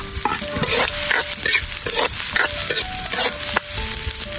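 Ginger and then garlic sauté in hot oil, a steady loud sizzle broken by repeated stirring scrapes and light clinks of a utensil against the pan.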